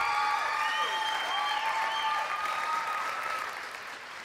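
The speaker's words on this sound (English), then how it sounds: "Stephanie Meyer and Esther Bain, so give them a big round of applause." Hearty audience applause at a Feast of Unleavened Bread presentation, full and continuous with a few higher tonal sounds above it, tapering off near the end.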